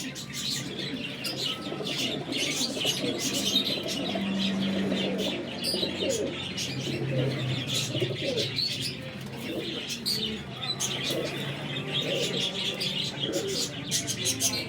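Racing pigeons coo and chirp in a busy loft, many birds overlapping in a constant near chorus with occasional wing flutters, and faint voices now and then.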